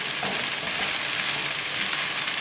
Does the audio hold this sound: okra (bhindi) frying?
yes